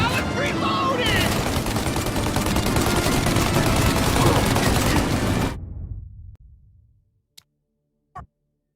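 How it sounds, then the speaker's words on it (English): Dense, continuous gunfire from a shootout in the video game Mafia Definitive Edition roars loud and close for over five seconds, then cuts to a fading tail with two sharp isolated shots near the end; voices shout amid the fire. "Shoot out your gun when there's a break in the fire!"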